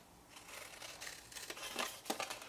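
Scissors snipping through paper card while making a small gift box, a few quiet crisp cuts building toward sharper snips near the end, close and faint with no talking.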